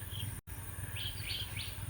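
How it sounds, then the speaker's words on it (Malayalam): Several short bird chirps ring out faintly against a quiet rural garden background, with a few rising calls clustered near the end. "കിളികൾ ശബ്ദിക്കാൻ തുടങ്ങിയിട്ടോ."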